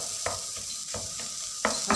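Minced kefta meat frying with chopped onions in a pan, a steady close sizzle broken by a few scraping stirs.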